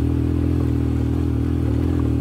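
A motorcycle climbs a rough mountain track toward Kharpocho Fort in Skardu, its engine a steady, close, low droning rumble that holds evenly throughout with no voices.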